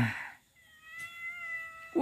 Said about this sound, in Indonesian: Di sini ditemani si kucing ya, guys.